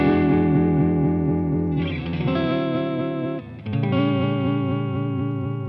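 An electric guitar run through an MXR Uni-Vibe effect pedal switched to vibrato mode, sustained chords wavering in pitch with a steady pulsing wobble, loud and alone, with a brief dip in level near the middle.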